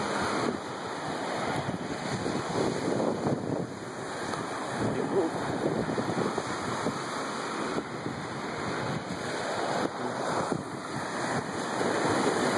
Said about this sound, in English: I think the tide's getting a little closer to the beach.